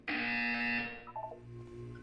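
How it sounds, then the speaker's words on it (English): A loud, harsh electronic buzzer from the video game Portal 2 sounds once for under a second, then fades into quieter game sounds. "You will hear a buzzer."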